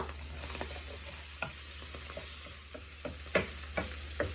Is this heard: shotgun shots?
no